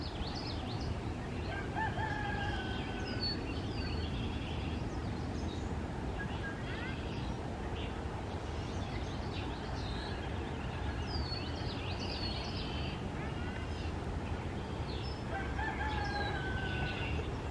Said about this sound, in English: it'll start recording bird sound, even if there's multiple birds singing at the same time